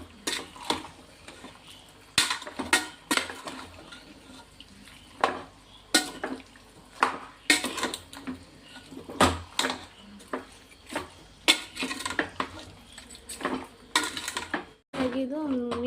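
Chicken gravy with spices and salt being mixed in a pan, with a spoon clanking and scraping against the metal in irregular bursts, close and fairly crisp against a quiet background.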